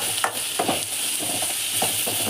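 Onions and green chillies sauté in a pan with a constant soft sizzle, while a spoon scrapes and stirs in a few short strokes.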